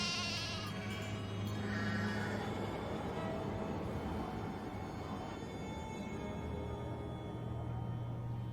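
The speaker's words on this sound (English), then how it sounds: "The sheep are tucked away in the barn" Sheep bleat repeatedly over a steady low ambient hum in a farm scene from the Nancy Drew video game The Haunting of Castle Malloy, calls rising and falling at moderate distance with no talk.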